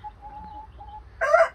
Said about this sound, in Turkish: Horoz nasıl bağırıyor